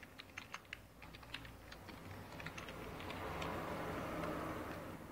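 Typing on a computer keyboard during a Linux desktop setup, a fairly quiet run of uneven key clicks that thins out while a soft steady hum rises beneath it.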